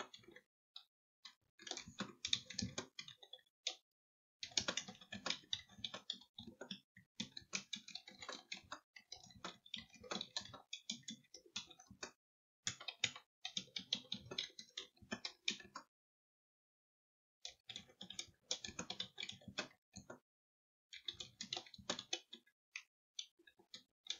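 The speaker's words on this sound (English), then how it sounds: "So the one thing that you're going to do is type in the disclaimer about shipping." Keys tapped on a computer keyboard while a shipping disclaimer is typed into a Shopify order confirmation email, coming as quiet bursts of rapid clicking broken by short pauses.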